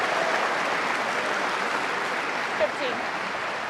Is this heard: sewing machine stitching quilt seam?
no